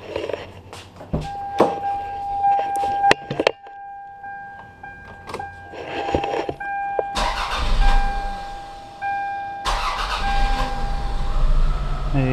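A Toyota Corolla's engine starts and runs at a raised idle, a steady close hum with clicks and door or switch thumps before it, then a fuller engine roar that drops and returns.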